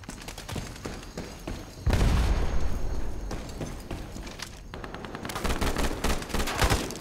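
Rapid suppressed shots from a VSS rifle in the shooter game Ironsight, fired in quick bursts with a heavier burst of gunfire and explosion-like rumble in the middle, loud and continuous over about seven seconds.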